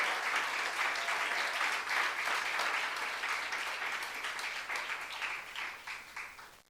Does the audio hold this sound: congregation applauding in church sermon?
yes